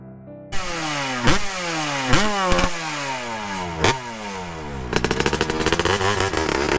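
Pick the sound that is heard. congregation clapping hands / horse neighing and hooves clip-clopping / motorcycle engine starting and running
motorcycle engine starting and running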